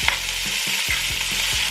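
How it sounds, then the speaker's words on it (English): Parsley sizzles loudly in a hot pan over high heat, a steady dense frying hiss with a few soft stirring knocks underneath, close up and without speech. "So in this other pan here, I'm going to be adding my parsley."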